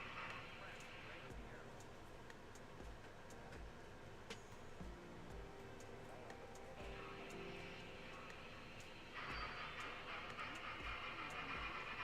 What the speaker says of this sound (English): Shove these two covered hoppers out onto the main so we can get them on our front coupler.